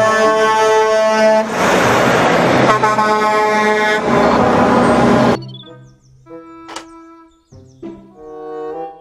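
A toy truck's horn blares in loud, harmonic bursts for about five seconds, then drops to softer, scattered tones and clicks.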